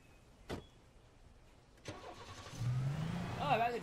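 A car engine in the Alan Wake video game rises from quiet to a steady, building drone with revving toward the end, preceded by a couple of sharp knocks, and faint speech is mixed in.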